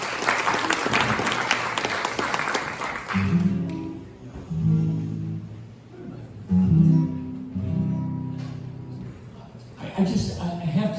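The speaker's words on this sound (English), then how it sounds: "So we keep applauding" Audience applause at an open mic night welcomes a performer, a steady clatter of clapping for about three seconds, then fading into a quieter room with low voices and shuffling.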